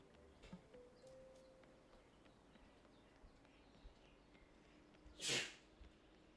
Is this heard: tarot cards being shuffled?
no